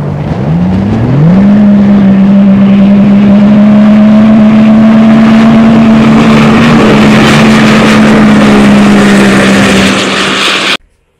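Off-road side-by-side vehicles from Evolution Powersports, KMS Performance and MTS Offroad launching on a drag run, a loud sustained engine drone rising in pitch at the start then holding steady before cutting off abruptly.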